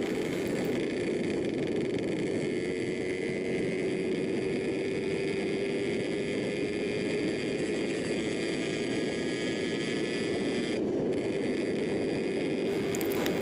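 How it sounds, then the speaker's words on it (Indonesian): A two-stroke motorcycle engine running on Global Petro America X1 2T oil idles at low RPM, giving a steady, even whirring drone with no change throughout. "Ini RPM gua langsam dan juga rendah ya."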